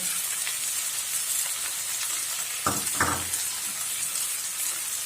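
Chicken gizzards fry with whole garlic and green chillies in a pan on low heat, a steady close sizzle broken by a couple of brief stirring scrapes around the third second, with no voices.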